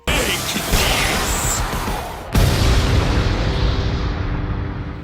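A loud, booming explosion from an energy ball in an animated Vegeta versus Broly fight bursts in, followed by a sustained roaring rumble with dense noise, backed by dramatic sound-effect layering.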